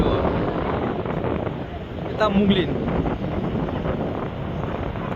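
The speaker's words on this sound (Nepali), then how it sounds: "हेर्नुहोस् कति राम्रो हावा चलेको छ" Wind gusting across the river bridge at Muglin, a steady broadband rush that stays loud throughout, with a person talking over it.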